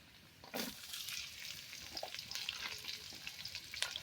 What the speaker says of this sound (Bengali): এখন পেঁয়াজ কুচি আর কাঁচামরিচ কুচি দিয়ে দিল এটা একটা ভাজা ভাজা করবে